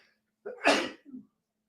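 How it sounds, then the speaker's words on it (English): A single close sneeze from a man, a quick intake of breath and then a sharp burst, trailing off into a short exhale, alone in a quiet room. "Hold on, I'm going to sneeze."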